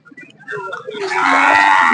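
A cow lets out a long, loud moo close by, swelling after a brief quieter start, with faint background noise of a busy livestock market in Ghoti.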